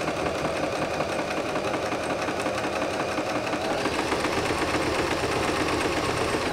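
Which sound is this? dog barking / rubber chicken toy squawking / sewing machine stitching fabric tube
sewing machine stitching fabric tube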